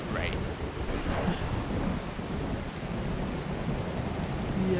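Rain and thunder in the video game Skyrim, a constant heavy downpour hissing evenly with a low rolling rumble of thunder beneath it, loud and unbroken.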